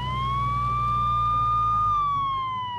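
A fire truck siren wails in a Minecraft scene, one long steady tone rising slightly and then falling away, loud and close over a low rumbling background.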